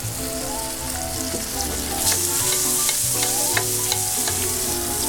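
Atlantic salmon searing in a hot pan, a dense steady crackling sizzle with scattered pops and spatters throughout, close and loud with no voices.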